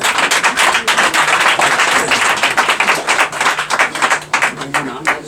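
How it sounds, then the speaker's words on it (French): Dense applause from a crowd at a tribute ceremony, steady clapping that holds for several seconds and thins slightly toward the end. "On applaudit."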